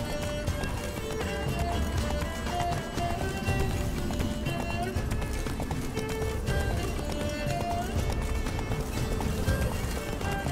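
Roach the horse galloping in The Witcher 3, rapid rhythmic hoofbeats that stay loud and steady throughout, mixed with game ambience and music, with a voice briefly speaking.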